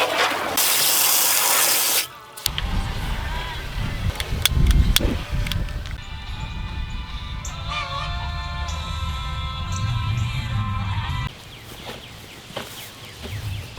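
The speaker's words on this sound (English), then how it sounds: "We're gonna throw some ice in it and some cold water" Cold water gushes and splashes into a cleaned trash can, starting with a loud hissing pour, then moving into a fuller, steady filling sound with clatter and rattling as the level rises.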